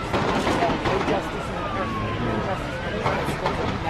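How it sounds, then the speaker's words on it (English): Faint police sirens wail in the distance during a curfew night in Ferguson, Missouri, their rising and falling tones drifting over a dense, noisy background of commotion. "what we're hearing in the distance is police officers arriving on scene"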